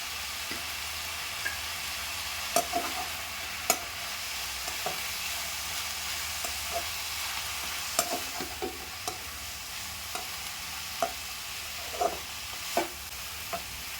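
Drumstick leaves with grated coconut stir-fried in a pan, a soft continuous sizzle with scattered scraping taps of a spoon stirring at irregular intervals, close and fairly quiet.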